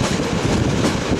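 Train passing on a railway near Suceava, a loud dense rushing rumble of wheels and wagons, brief and steady with no talking.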